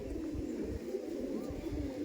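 Pigeons on the roof of a pigeon house keep up a continuous low cooing, a soft steady drone with faint rustling beneath.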